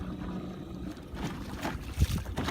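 Motorized kayak cruising at about 3 miles an hour in high gear on choppy water, with a continuous low motor drone and water slapping and splashing against the hull, close by and without talk.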